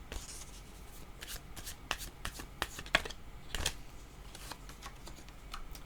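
Tarot cards are shuffled close to the microphone: soft riffling and sliding with a series of crisp snaps and flicks, uneven in rhythm, quiet overall and with no talking.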